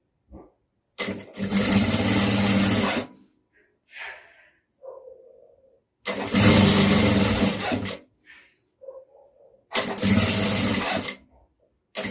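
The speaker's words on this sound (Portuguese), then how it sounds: "vou passar uma costura aqui e depois vou passar a costura reta" A sewing machine runs a straight seam on a two-tone dress in three loud, steady bursts of motor whir and needle chatter, with short quiet pauses and soft handling noises between them.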